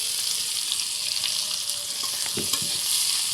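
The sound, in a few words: ginger, garlic, onion and green chilli frying in oil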